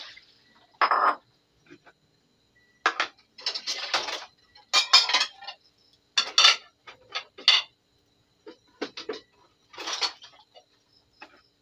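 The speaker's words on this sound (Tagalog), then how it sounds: "maghugas muna ako ng hugasin habang hindi pa mainit yung aking kamay" Dishes, pots and cutlery clinking and clattering in bursts during dishwashing at a home kitchen sink while oil heats on the stove, with short clanks separated by brief quiet gaps.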